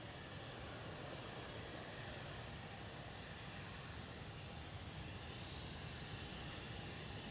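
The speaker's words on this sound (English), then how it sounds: "United Airlines 787 departure" A United Airlines Boeing 787 departing Schiphol in Amsterdam makes a continuous, even jet roar that stays steady and fairly faint for the whole stretch, with no voices.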